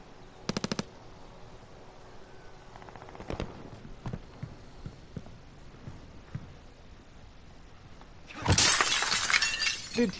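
Window glass shattering under gunfire in the video game Warzone: a few scattered shots, then a loud, bright burst of breaking glass with tinkling debris near the end.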